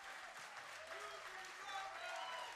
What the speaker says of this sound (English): Look at the crowd, Mark. They're going nuts.